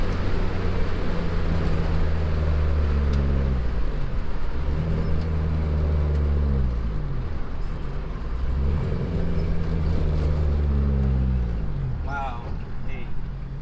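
Datsun 510 pulling in fourth gear, heard from inside the cabin: a loud, droning engine that rises in pitch in three long sweeps, dipping between each, with a voice talking briefly near the end.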